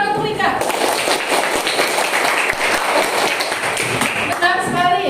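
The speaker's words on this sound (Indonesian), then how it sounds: "Tepuk tangan untuk Rika" A classroom breaks into applause for a student: dense, loud clapping holds steady for about five seconds, with voices mixed in.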